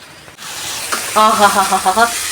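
Okra (bhindi) frying in a pan gives a steady sizzle close up, joined by a voice talking over it partway through.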